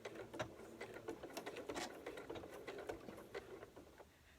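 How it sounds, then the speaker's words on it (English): A sewing machine stitching a dart in fabric, giving a quiet, fast, even run of needle ticks and motor hum that eases off toward the end. "Take a couple of stitches."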